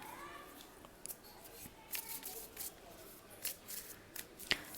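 Tarot cards being arranged, faint papery slides and soft card flicks coming in small irregular bursts close by, with quiet background hiss.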